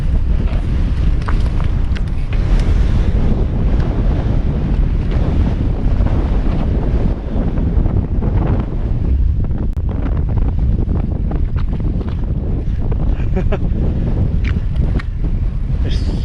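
Strong wind buffets the microphone on an exposed trail on a remote Scottish island during a mountain bike ride, a loud, continuous gusting roar that never lets up.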